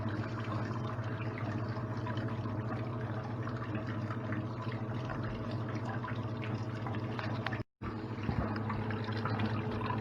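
Oversized pump pushing water through a blue bowl gold concentrator, a steady continuous wash of running and pouring water at moderate level, with one brief cutout.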